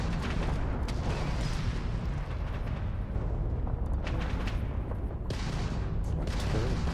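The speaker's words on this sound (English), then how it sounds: "You just shot me like a dozen times" Turret gunfire in the video game Starfield rattles in dense, overlapping bursts and booms for several seconds, loud and continuous with no pauses.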